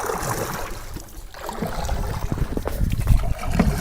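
Aluminium dinghy rigged with banana-trunk floats on both sides, gliding through a Sundarbans marsh, with soft continuous water swishing and lapping, mid-distance and fairly steady, a slight surge near the end.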